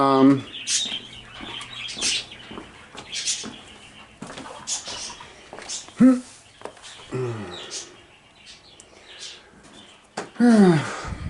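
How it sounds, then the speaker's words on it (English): Birds call repeatedly nearby in loud, squawking chirps and trills, some rising in pitch, with scattered rustling between calls. "yes, those birds always make that noise. All day long they're doing that."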